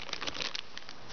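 A small plastic bag holding X-Men comics crinkles softly up close, a quick run of faint rustles and crackles over about a second with no voices.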